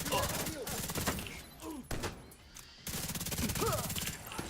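Rapid bursts of video game gunfire from an enemy shooting at another target, sharp repeated cracks under near-constant talking.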